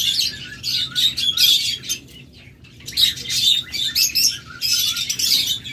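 Lovebirds in a farm aviary chirp in rapid bursts of high, shrill tweets close by, with short pauses between flurries.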